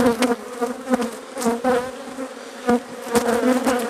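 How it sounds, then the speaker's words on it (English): Honey bees buzz around an opened hive during an inspection, a close, shifting chorus of wingbeat hums with individual bees swelling loudly past the microphone in irregular bursts. "Now these bees are getting a little excited"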